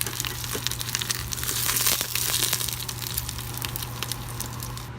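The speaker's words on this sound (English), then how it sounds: "I take a paper towel and I wipe up the excess ghee" Paper towel crinkling and rubbing as it wipes excess ghee from the bottom of a pressure cooker pot while making pho, a soft continuous rustle over a steady low hum.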